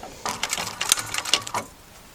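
A sewing machine runs straight over a flat-laid seam on a bolster cushion in an upholstery job, giving about a second and a half of quick, close mechanical stitching bursts before it stops.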